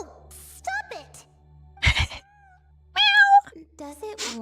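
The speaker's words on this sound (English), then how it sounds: "It really is a cat." A cat in the video game Genshin Impact meows a few times in short, clear cries, with a voice gasping and sighing in between.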